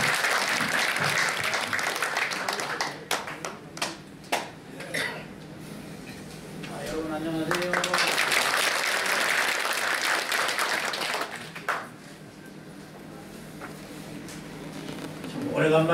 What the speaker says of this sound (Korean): 박수를 한 주시면 감사하겠습니다.